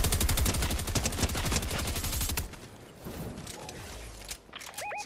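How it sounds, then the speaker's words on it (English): Rapid automatic gunfire in the video game Fortnite, a dense loud burst of shots for a couple of seconds, then quieter scattered game sounds and footsteps. "Someone's shooting at me."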